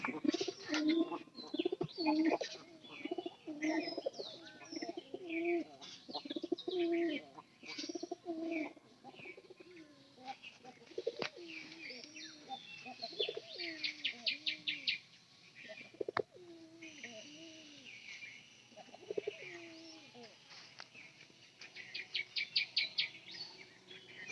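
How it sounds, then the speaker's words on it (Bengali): Pigeons coo repeatedly in soft, rolling phrases, close by, with occasional chirps and brief wing flaps mixed in and no talking. "আবার আমি এই কবুতরের কাছে গেছি"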